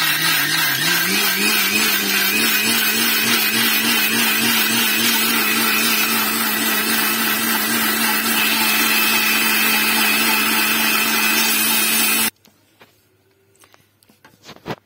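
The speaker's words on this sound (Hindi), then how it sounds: "इसमें हम अपने काजू डाल देंगे और इसको कैसा फाइन ग्राइंड कर लेंगे" A blender grinds cashews into a fine paste, running loud and steady with a high whirring drone for about twelve seconds before cutting off abruptly, leaving faint clinks and handling noises.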